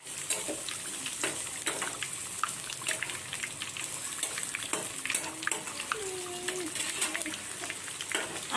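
Food frying in a pan while iftar dishes are prepared in a home kitchen, a steady crackling sizzle running throughout with occasional clinks, spoken voices mixed in under the frying.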